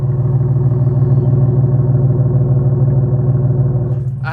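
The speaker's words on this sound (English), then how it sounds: "I do hear that exhaust leak." An Infiniti G37 with a flame tune, Beluga test pipes and an exhaust leak idles close by with a loud, steady, low rumbling drone and a raspy pulsing flutter. The sound holds constant, then a brief clatter comes at the end.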